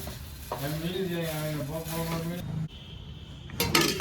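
Bhel puffed-rice snack is tossed with aloo sev in a bowl, giving a dry, rustling stir under a voice, followed by a softer scrape and a brief clatter at the end.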